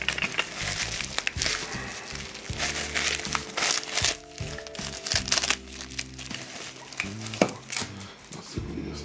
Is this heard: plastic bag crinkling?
yes